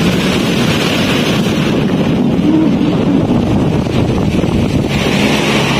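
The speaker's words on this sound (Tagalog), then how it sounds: "Ang lakas ng alon mga kababayan." Strong sea waves churn continuously under heavy wind buffeting the microphone, a dense, steady roar of surf and gusts with no break, close and loud throughout.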